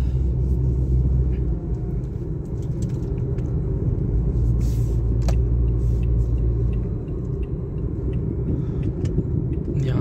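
A car drives slowly along the Kalba corniche in the UAE and makes a U-turn to park, giving a steady, loud low engine and road rumble throughout with a brief dip in level partway through.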